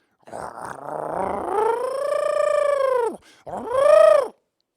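A voice imitates a creature call, a long drawn-out warbling howl that bends downward, followed by a shorter hooting cry.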